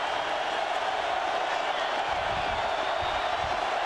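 A loud home crowd roars steadily throughout at a 2000 college football game between Oklahoma and Nebraska, a dense, continuous wash of stadium noise with no clear breaks.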